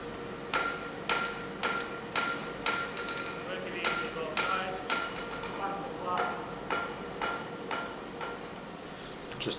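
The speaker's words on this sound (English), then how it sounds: "first couple of hits of me forging hot steel" A hammer strikes hot steel in a steady rhythm while forging, about a dozen ringing blows at close range, each with a bright metallic clang.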